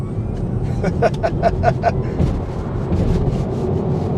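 An electric car pulls hard out of a bend on a twisty road, a smooth rising surge of road and motor noise with a brief series of tonal pulses, heard from inside the cabin.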